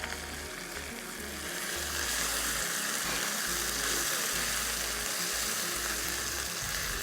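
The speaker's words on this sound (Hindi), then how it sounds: "अब साथ ही साथ ये चॉप्स हमने इसमें डालने हैं और इसको करना है अच्छे से फ्राई" Beef chops frying with garlic, ginger and green chili paste, a dense, loud, continuous sizzle that swells slightly after the start, heard close with no talk.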